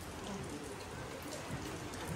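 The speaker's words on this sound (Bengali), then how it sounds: "আর বাইরে প্রচুর বৃষ্টি।" Heavy rain falls outside in a continuous, broad wash of patter and hiss, steady and somewhat muted throughout, with no voices.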